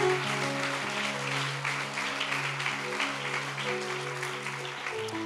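A church congregation applauds the Lord together, steady, fairly faint clapping from a crowd, continuous over several seconds with a low hum beneath.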